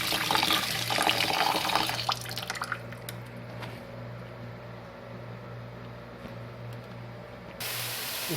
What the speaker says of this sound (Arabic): نغسل الرز بس غسل، ما ننقعه ولا شيء